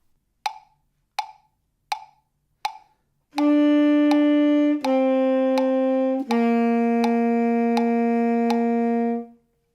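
Four short tapped notes, then a tenor saxophone holding three long sustained notes one after another, clear and close with no talking.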